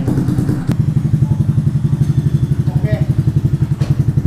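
A homemade mini buggy's small engine catches after a brief cranking thump, then settles into a loud, steady, rapid chugging idle close by, with a voice briefly audible over it.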